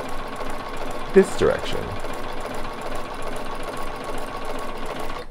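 A Bernina 770 Plus sewing machine stitches steadily throughout, its fast mechanical whir running continuously while a person talks over it.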